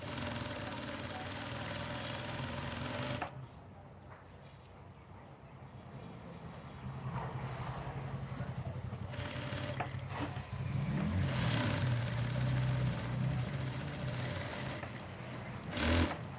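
A sewing machine stitches the pocket of a panjabi, giving a steady close mechanical whir that runs almost continuously, easing briefly early on and then returning a little louder.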